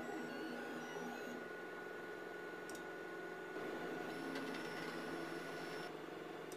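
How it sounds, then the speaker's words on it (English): An FLSUN QQ-S Pro delta 3D printer runs its auto-leveling routine, with a steady motor hum and faint high whines and brief ticks as the effector probes points at the edges of the print bed, heard alone. "First, 3 points at the edges of the printer are measured."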